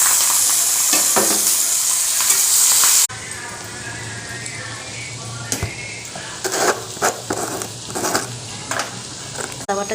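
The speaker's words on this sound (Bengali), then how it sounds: "মাছগুলো ভাজা হয়ে যাওয়ার পরে আমি এর মধ্যে কাঁচামরিচ পেঁয়াজ কুচি দিয়ে দেব।" Tengra fish fry with green chilies and chopped onion in a pan, giving a steady sizzle with stirring and utensil scrapes, louder at first and then settling into a softer crackle with intermittent clinks.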